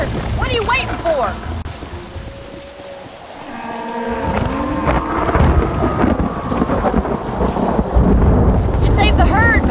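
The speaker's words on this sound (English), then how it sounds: "The storm's getting worse." Thunderstorm with heavy rain in Red Dead Redemption, a steady roar of rain with rolling thunder swelling loud midway, while cattle low and people call out over it.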